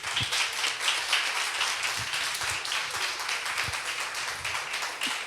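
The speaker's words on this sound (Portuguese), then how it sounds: "vamos aplaudir Jesus" An audience at a church talk claps together, a moderate, somewhat uneven patter of hands with a few sharper individual claps standing out, fairly quiet and steady throughout.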